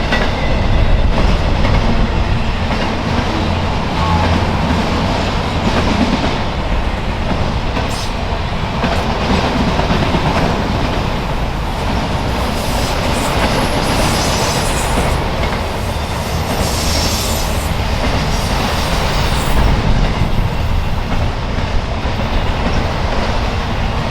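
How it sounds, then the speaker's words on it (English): Train rolling east past a trackside spot during the 2024 total eclipse, a continuous loud rumble of wheels and cars with faint clickety-clack and brief high squeals, sustained and close throughout. "As the train continues rolling east,"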